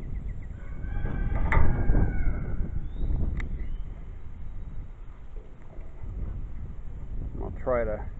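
Low rumbling wind buffets the microphone throughout, loud and close, with a few faint clicks and tones over it.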